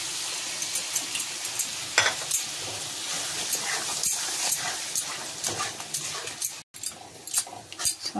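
Spices sizzle steadily in hot oil in a home kitchen while a curd-based pohala fish curry is cooked, with scattered clinks and scrapes of stirring against the pan.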